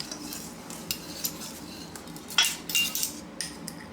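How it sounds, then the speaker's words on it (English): A whisk works cucumber bread batter in a bowl and makes quick clinking and scraping strokes in irregular bursts. The strokes are near and moderately loud, with brief pauses between them, and no one talks. "Go ahead and start whisking that up."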